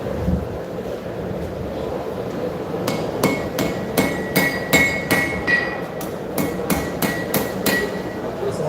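A hammer forges a knife blade at a live knife show, first quiet, then roughly a dozen sharp, ringing metal strikes in a steady rhythm over a low background murmur.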